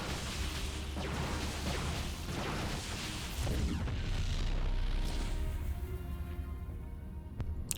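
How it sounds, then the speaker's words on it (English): A gateway building explodes during a competitive Protoss versus Protoss StarCraft II match, heard as a dense, rumbling boom amid continuous battle noise and effects throughout. "Likewise, we have a gateway explosion."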